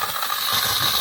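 Electric pump of a homemade steam generator for testing live steam locomotives starting up, a steady close mechanical hum and rattle under a constant hiss, with no talking.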